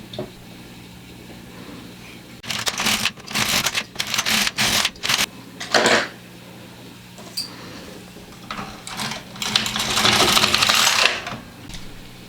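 An LK150 knitting machine carriage is pushed back and forth across the needle bed, knitting rows of a fingerless mitten with a low hum; bursts of clacking and sliding recur in passes, close and fairly loud, with no talking.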